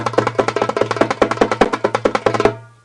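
Darbuka roll played with all fingers striking the head for a dirtier, less even sound: a fast, continuous flurry of close hits over a sustained drum resonance, ending with a decaying ring.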